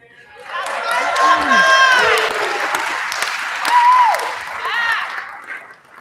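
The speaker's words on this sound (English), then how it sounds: "You clapped, but I didn't tell you why." Applause from a crowd builds and continues steadily, with voices calling and cheering over it; a voice briefly rises above the clapping.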